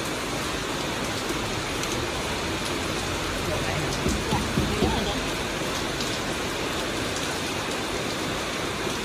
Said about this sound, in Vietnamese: Mưa quá anh nhỉ.